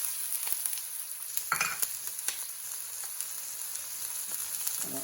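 Onions sizzling in a pan for bourbon chicken, a soft, even frying crackle with scattered small pops and one brief scrape of a utensil, with no voices.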